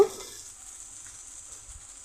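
Ground coriander, cumin and chili powder sizzle softly in hot oil in a pan, a faint steady hiss with light stirring scrapes, no voices.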